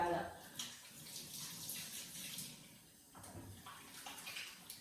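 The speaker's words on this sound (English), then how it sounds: "I'm going to wash my hands." Tap water runs steadily into a sink while hands are washed under it, a soft continuous splashing at close range with a brief voice near the start.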